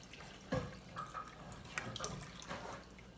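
Water pouring into a cooking pot for rice, a soft splashing and trickling stream with a few sharper splashes, fairly faint and close, with no voices.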